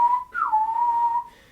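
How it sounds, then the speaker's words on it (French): A single lip whistle holds a tone, breaks briefly, then slides down from a higher pitch into a long, steady note that fades out. "pour que le sifflement démarre dès que la langue descend"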